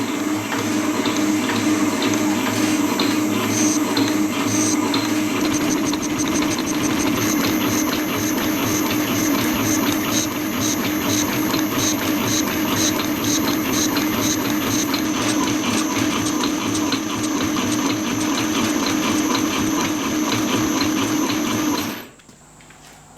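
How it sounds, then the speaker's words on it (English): A metal shaper machines a zamak casting with a steady, loud mechanical drone and a rhythmic rapid chatter from the stroking ram and cutting tool, continuing for about twenty seconds before abruptly stopping. "Well, that does machine really nicely on the shaper."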